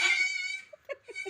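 A baby goat bleats in a high, wavering, harmonic cry, loud and close at the start, followed by a few shorter, softer bleats or small sounds.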